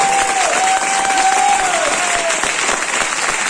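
Applause from a crowd at a leadership rally speech, steady and dense for several seconds, with a faint whistle-like tone gliding through the middle.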